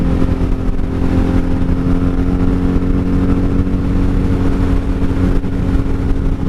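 A wrecked 1997 Honda Magna VF750C motorcycle cruising on a highway in fifth gear at about 75, its engine droning loud and steady with a constant low rumble and wind noise throughout.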